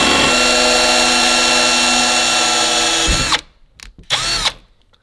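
A power drill with a 3mm bit bores through two layers of VW T4 camper van sheet metal, a steady loud whine for about three seconds that stops abruptly, followed by a couple of short bursts.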